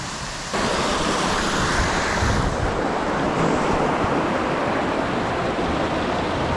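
Floodwater rushes steadily through Red Bank Creek, a dense continuous roar with wind buffeting the microphone, loud and unbroken throughout.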